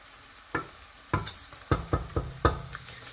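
Bacon sizzles softly in a pan with scattered sharp crackles and pops, close and fairly quiet, no voices.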